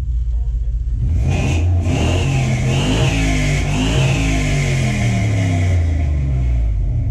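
A 1947 Ford fitted with a Toyota 1UZ VVTi V8 pulls away hard on its first drive. The engine roars up through the revs in a loud, close, rising surge with a pitch dip at the shift, then holds.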